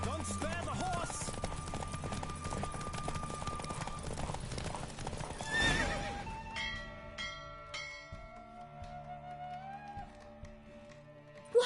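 Rapid hoofbeats pound in a steady galloping rhythm over a busy game soundtrack, fading into ringing chimes and a short whinny.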